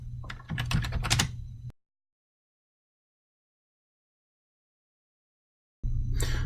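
Quick bursts of computer keyboard typing while entering values into a handling table patch, close and clear, broken by a long stretch of silence before the keystrokes resume briefly at the end.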